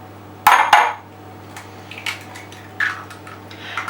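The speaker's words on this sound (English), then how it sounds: "I need 2 medium-sized eggs, and I'm going to crack them" Two medium-sized eggs are cracked against the rim of a bowl in a kitchen, giving two sharp close knocks in quick succession, followed by softer clinks and taps of shell and bowl.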